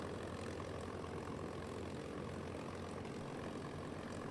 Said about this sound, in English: Doolittle's own bomber was the first to rumble down Hornet's pitching flight deck.